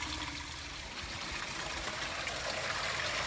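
Garden hose water running into the top of a Corvette C4 radiator during a coolant flush, a continuous rushing, trickling flow at steady level throughout.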